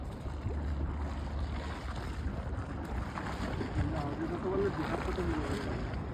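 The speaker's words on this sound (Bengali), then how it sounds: "জলের আওয়াজ কি তোমরা শুনতে পাচ্ছ ঢেউয়ের" Continuous rush of water and waves with wind noise in Japan, moderately loud and steady, as if heard from a boat, with a faint tonal murmur.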